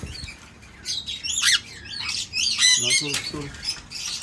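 A breeder pair of red New Zealand parakeets gives close, loud, harsh squawks and chirps in quick irregular bursts, with a voice briefly audible in between.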